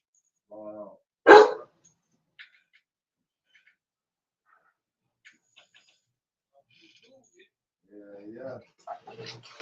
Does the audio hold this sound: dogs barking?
yes